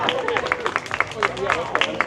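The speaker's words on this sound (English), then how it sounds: "Come on up, keep clapping." Outdoor audience clapping at a medieval faire show gives a rhythmic, moderately loud patter of hands from a crowd, with voices and crowd murmur running underneath.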